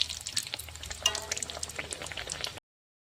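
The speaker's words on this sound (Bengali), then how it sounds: "এটাকে উল্টা পাল্টা করে ভালো করে ভেজে নেব" Mughlai paratha frying in a pan, a close, steady crackling sizzle of oil with small bubbling pops that cuts off abruptly, no voices.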